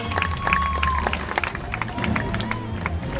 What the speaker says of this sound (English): Give her a nice big round of applause, Kendra, ladies and gentlemen